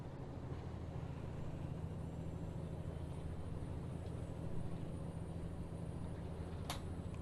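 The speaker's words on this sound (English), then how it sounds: "I believe there was some new engine sounds in there too, and the engines do sound better" Steady low truck engine drone from a FedEx delivery rig in American Truck Simulator, a constant rumble with road noise and a brief hiss near the end, no talking.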